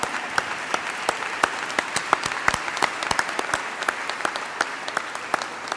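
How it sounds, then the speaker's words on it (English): Steady applause from an audience at an evening justice event, many hands clapping continuously and fairly evenly for several seconds at moderate distance, with no voices standing out. "this is the part where you all clap."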